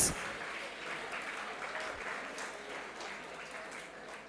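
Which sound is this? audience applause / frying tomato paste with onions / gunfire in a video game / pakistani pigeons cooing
audience applause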